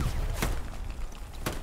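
Two sharp, distant gunshots from AT sniping in the video game Hell Let Loose crack out about a second apart over a steady rumbling battlefield background.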